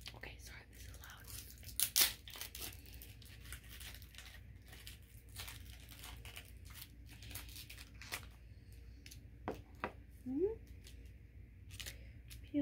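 Peeling open an I Dig Monsters slime fidget toy up close, with crinkly tearing and rustling plastic, a few sharper rips, and soft whispered speech throughout.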